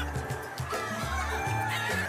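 Silkie hens clucking close by in a steady run of low, throaty clucks and murmurs, with faint fowl chatter in the background and no talking.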